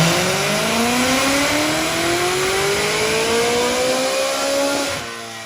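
Supercharged BMW E92 M3 with the S65 V8 on a dyno during break-in, a loud sustained engine run whose pitch climbs steadily as revs build, then drops off abruptly near the end.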